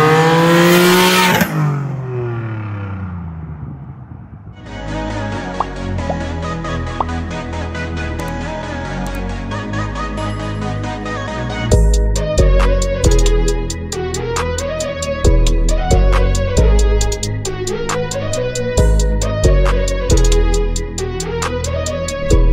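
A turbocharged Infiniti G37 with a Soho single turbo kit starts up, then idles and revs loudly and close, with the engine note climbing and falling over a sustained rumble and no talk.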